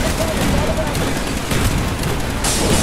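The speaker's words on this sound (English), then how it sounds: "I'll have the 50 caliber here too" In Call of Duty Black Ops, a mounted 50 caliber machine gun fires in a dense, continuous roar. The sustained heavy bursts stay loud the whole time and get harsher at the close.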